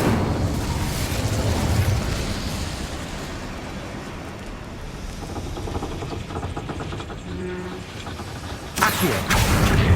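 Incendio fire spell bursts in Hogwarts Legacy, a roaring whoosh of flame with booming explosion-like blasts, continuous and fairly loud, ending in a sudden bright burst.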